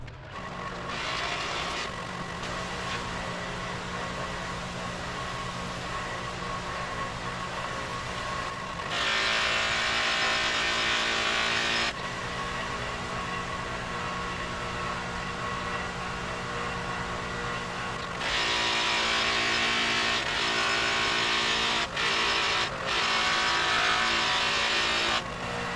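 A Harbor Freight Bauer 8-inch stationary buffer runs with a steady motor hum while polishing wheels. Its tone shifts and brightens at intervals as the workpiece is pressed against the spinning wheel and pulled away.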